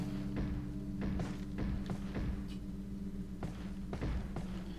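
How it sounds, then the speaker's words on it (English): Dull thumps in the Resident Evil 4 video game come from somewhere above, a series of irregular soft knocks over a low droning background, moderately loud with no speech. "I can hear thumping from all the way up."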